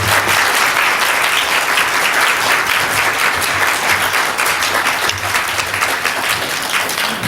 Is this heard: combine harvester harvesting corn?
no